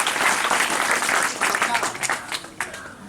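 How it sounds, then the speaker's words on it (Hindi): Audience at a felicitation ceremony for successful matriculation students of a mathematics coaching class bursts into loud, sustained applause, dense clapping that thins and tapers toward the end. "इनके नाम पर भी हम लोग एक बार जोरदार ताली बजाएं।"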